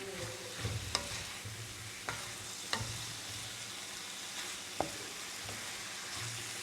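A utensil scrapes the bottom of a pan of sautéing cabbage, arugula and pak choy under a soft, steady sizzle, with a few sharp scraping knocks spaced irregularly.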